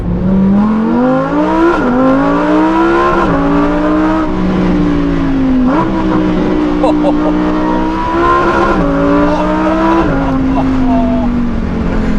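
A Lamborghini Huracan Evo supercar engine revs and pulls hard through repeated rising gear runs, each climb ending in a shift before building again, loud and close throughout with occasional higher whines and tire noise.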